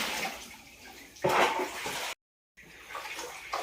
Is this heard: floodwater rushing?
yes